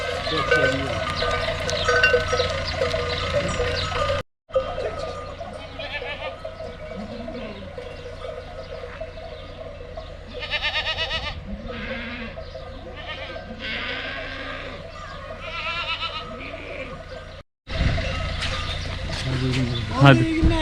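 Sheep flock in a village in Yeniköy, Develi, Kayseri, bleating repeatedly among clanking cowbells, with nearby people talking over the steady outdoor animal noise.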